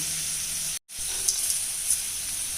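Onion and garlic with ridge gourd seeds sautéing in a pan give a steady close hiss and sizzle, broken by a brief silent gap, with a few soft spatters.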